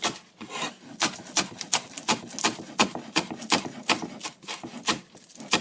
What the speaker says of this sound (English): And we just slice. I like to use the whole scallion.